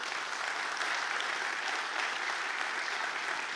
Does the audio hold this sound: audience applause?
yes